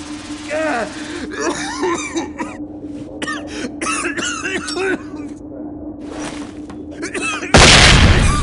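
People coughing and wheezing from CS gas in SWAT 4, with several close, repeated harsh coughs and strained vocal sounds from more than one person, ending in a sudden loud burst of noise.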